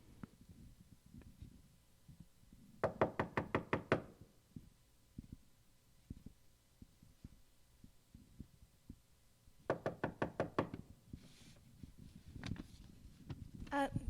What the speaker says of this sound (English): a knock was heard at the back door, where deliveries from the village were made